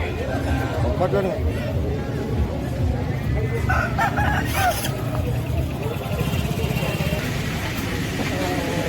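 A rooster crows once midway at a village country-chicken market, rising over a noisy outdoor background with people talking and a passing engine hum.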